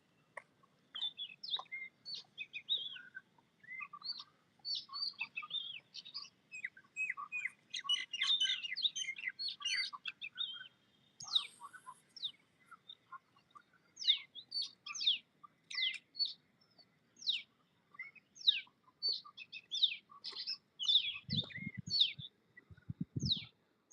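A tiny bird chirps outdoors in rapid, high, repeated calls, with other birds singing nearby over a quiet background.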